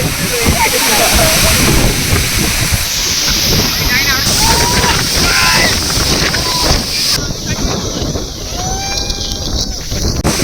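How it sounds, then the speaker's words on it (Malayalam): A steady, loud roar comes from a high waterfall in Kottayam district, heard up close with wind buffeting the microphone throughout. "കോട്ടയം ജില്ലയിലെ ഏറ്റവും ഹൈയസ്റ്റും സേഫസ്റ്റുമായ വാട്ടർ ഫോൾ"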